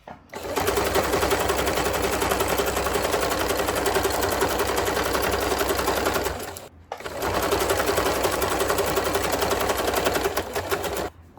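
A sewing machine with its presser foot lowered stitches ribbon onto a baby diaper, running in a loud, fast, even buzz, pausing briefly once and then starting again.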